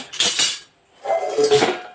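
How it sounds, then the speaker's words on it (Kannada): Four metal spoons and a kitchen vessel are handled close up in two short bursts of clinking and scraping metal, separated by a brief pause. "ನಮ್ಮಮ್ಮ ಕೊಟ್ಟಿರೋದು ನಾಲ್ಕು ಚಮಚ ಮತ್ತು ಒಂದು ಪಾತ್ರೆ"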